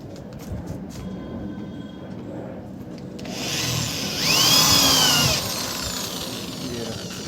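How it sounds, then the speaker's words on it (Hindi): A power drill whirs as it drives screws into an 18-inch bass speaker cabinet, the motor whine building and peaking briefly over steady background noise. "फिर इसमें मशीन से स्क्रू कसेंगे।"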